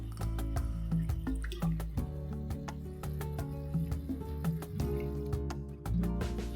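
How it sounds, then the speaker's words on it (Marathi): Water poured into a pan of dry Bombay duck masala with thick coconut milk, a close trickling, splashing stream running steadily with small drips and clinks, no talking. "थोडंसं पुन्हा पाणी घालूया त्यात."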